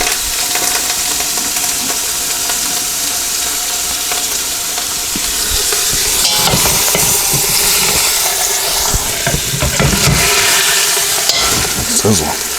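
Frito-crusted pork loin sizzles loudly in a pressure cooker on saute, a constant close hiss and crackle of browning meat with occasional scrapes and bumps as it is turned.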